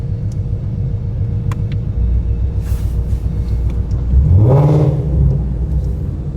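Ford Shelby GT350 idles with a deep, steady rumble through active exhaust valves, rising into a brief throaty rev midway before settling back to a loud idle.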